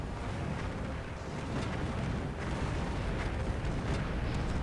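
Structure-destroyed explosion in the strategy game Earth 2150: The Moon Project, a dense, steady roar of blast rumble and crackling debris that fills the whole stretch without letting up.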